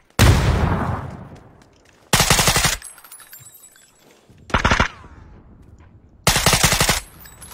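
Video game gunfire in loud automatic bursts, separated by quieter gaps with a ringing, debris-like tail, plus a sharp blast that fits a grenade, all close and without speech.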